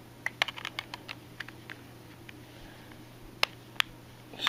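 Plastic battery charging case snapped onto an iPhone 7, a slim 4000mAh charger case: a quick series of small, sharp clicks early on, then two louder distinct snaps later, close and alone against quiet room tone.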